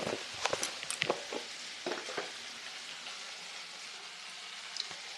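Taro flowers fry in a pan for a Bengali ghonto with hilsa fish head, giving a steady close sizzle broken by several sharp crackles and spatters, no talk.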